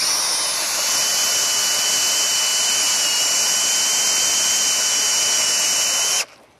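A power drill bores a large hole into living tree wood, giving a loud, steady, high-pitched whine that holds for about six seconds and then cuts off abruptly.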